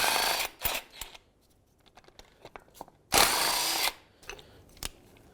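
A power tool spins out two 14mm bolts holding a sway bar link bracket on a 2003-2007 Nissan Murano rear upper control arm, with two loud close whirring bursts separated by quieter clicks and handling noise.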